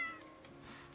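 A pet cat named Peter gives a single short, fairly faint meow close by, with nothing else around it.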